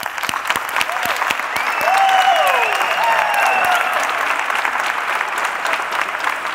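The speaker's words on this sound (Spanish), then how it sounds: "me gustaría pedir para todos esos que veis allí un fuerte aplauso" An audience at the T3chFest 2017 closing and awards ceremony gives the event helpers sustained applause. The clapping is moderately loud and even, swelling slightly midway, with whistles and cheers rising above it.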